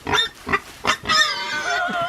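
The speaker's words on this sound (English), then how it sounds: "We brought in a cabbage as incentive for them to hang out with us, because pigs really, they love food." Lady hogs grunt and squeal while being fed a cabbage, several short close grunts followed by a longer whiny squeal, loud and near.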